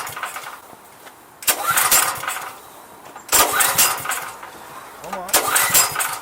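A Ryobi 5500 watt 420cc generator that won't start is pull-started up close, with three loud bursts of engine cranking and sputtering, separated by quieter pauses.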